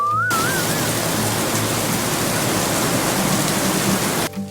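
Heavy rain pours down in a steady, dense hiss, loud and close, with a brief whistling tone at the start before cutting off near the end.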